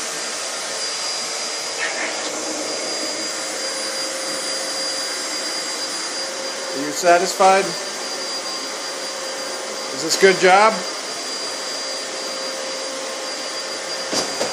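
A household vacuum cleaner runs steadily at a moderate distance, its droning whine constant while a person speaks briefly twice over it.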